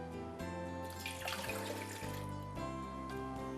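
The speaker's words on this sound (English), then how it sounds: "Place all ingredients in, beginning with water." Water runs into a bread maker pan fitted with a kneading blade, a steady close pour with a faint trickling splash and no voices.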